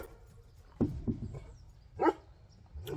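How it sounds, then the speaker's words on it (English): Two dogs wrestle and play outdoors, letting out a few sharp barks and yips in irregular bursts at moderate distance, with quieter scuffling between. "The dogs are out here wrestling."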